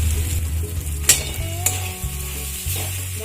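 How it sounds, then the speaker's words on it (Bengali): Boiled banana flower stirred into frying spices in a pan, with a steady hiss of sizzling oil broken by several sharp scrapes and knocks of a spoon against the pan. "মোচাটা দিয়ে আমি ভালো করে নেড়ে চেড়ে নেব।"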